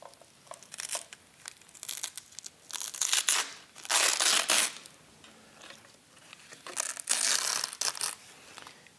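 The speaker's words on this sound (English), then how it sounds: "peel off the top layer of that" Top layer peeling off adhesive backing on a strip being fitted along a frame, crisp crinkling and tearing rasps in several bursts with short pauses between, close and fairly quiet.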